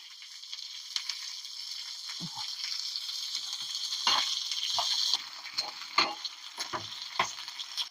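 Green chilies sizzle and fry steadily in a pan of hot oil for chammakaya pickle, with a continuous hiss and scattered close stirring clicks and scrapes, no voices over it.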